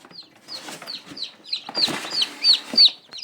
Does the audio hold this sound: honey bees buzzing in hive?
no